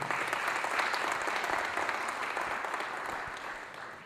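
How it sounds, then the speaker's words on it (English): An audience applauds warmly after a classical Indian dance debut performance of Ananda Tandavam, a dense, sustained patter of many hands that slowly tapers off. "How about one more round of applause for Sravani?"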